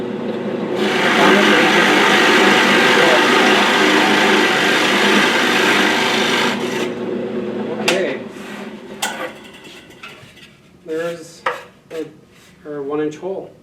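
A drill bores a 1/2 inch deep counterbore into wood for a tool box, a loud continuous whirring grind for about seven seconds that then stops, followed by clunks, handling noises and brief speech.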